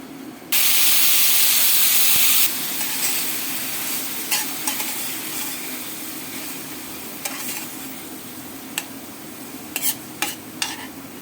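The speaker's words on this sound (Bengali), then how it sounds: "এবার পেঁয়াজ কুড়ানো দেব।" Onions fry in oil already tempered with cumin seeds, a loud burst of hissing sizzle as they hit the pan, then a steady frying crackle with sharp stirring scrapes and clatters.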